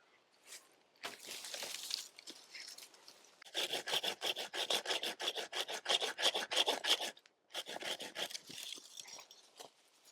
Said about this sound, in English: just do a quick prune of this branch here, just to give the walnut a bit more space to grow